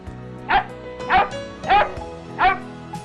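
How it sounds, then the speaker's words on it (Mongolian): A dog barks four times at an even pace, each bark clear and close, with a fainter yip at the end. "нохой,"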